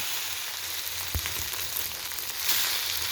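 Bitter gourd dipped in egg fries in hot oil with a steady, close sizzle and a few soft knocks of a utensil, no voices.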